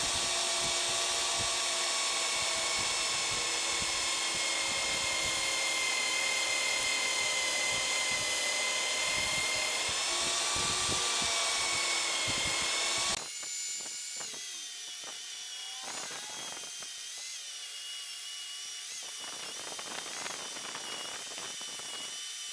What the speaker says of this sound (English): we're gonna go ahead and drill this out